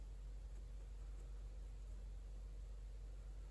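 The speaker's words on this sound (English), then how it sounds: "I apologize if you can hear like a little bit of humming in the background." A steady, faint electric fan hum runs unbroken in the background of a quiet room where watercolor painting is underway, with no talking.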